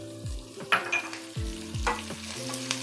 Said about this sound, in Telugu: శనగపప్పు వేసుకుందాం. ఇది వేగింది కదా, ఇప్పుడు ఇందులో పచ్చిమిరపకాయలు కూడా వేసేసుకుందాం.